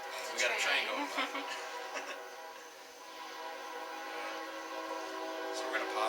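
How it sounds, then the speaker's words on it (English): A train passes outside an old inn at night, its horn sounding clearly near the start and again at the end, with a steady rumble and long whistle tones between them. "We got a train going by."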